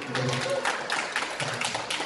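Applause at a volunteer event in a day care center, short bursts of clapping mixed with voices and some background talk, close and brief.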